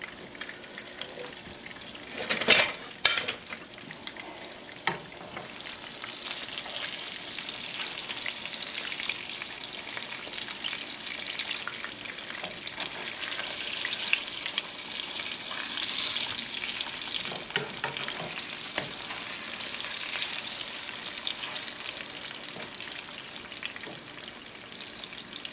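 Chicken pieces frying in a pan, a steady close sizzle with crackling and a few louder spits and stirring clatters near the start, continuing alone without talk.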